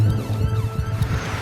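An ambulance siren wails steadily and loudly with a rising and falling tone, heard alone with traffic rumble beneath, on the way to hospital after a teenager's bike accident.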